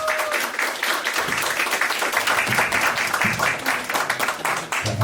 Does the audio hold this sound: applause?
yes